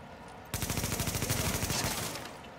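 A gun in The Division fires a fast automatic burst that starts abruptly, rattles on loudly with evenly spaced shots for about a second and a half, then trails off.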